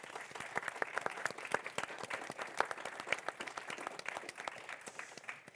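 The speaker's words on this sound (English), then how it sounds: "Please give everybody a round of applause." Audience applause at the close of a panel discussion on early literacy and numeracy, a steady patter of many hands clapping at moderate level, with no voices over it.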